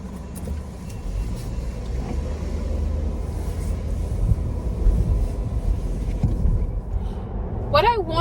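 A small Mercedes rumbles along with a steady low engine and road drone from inside the cabin, continuous and fairly loud, with someone speaking over it.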